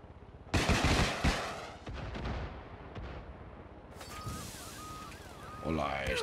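Sniper gunfire in the shooter game Far Cry 6: a loud burst of shots at the start followed by scattered blasts and a later electronic warbling tone, with game voices partly mixed in.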